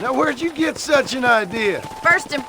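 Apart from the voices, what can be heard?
No everyday noises stand out.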